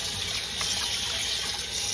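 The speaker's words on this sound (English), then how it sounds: "And then we just run some water back on it." Tap water runs steadily over raw chicken in a kitchen sink, a continuous close gushing splash with no pauses.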